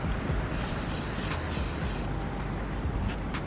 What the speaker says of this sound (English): Spray some penetrating fluid on your nut that you got to release